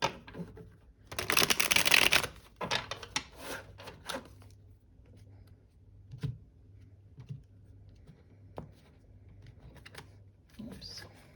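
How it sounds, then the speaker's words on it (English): A loud riffle of tarot cards being shuffled, followed by scattered soft card taps and handling noises. "we'll do one last shuffle"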